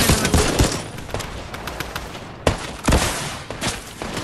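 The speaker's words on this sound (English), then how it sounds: "I'm getting shot! I'm being attacked!" Rapid Fortnite Battle Royale gunfire comes in two sharp volleys of close, loud cracking shots, each trailing off into echoing decay, with no talking.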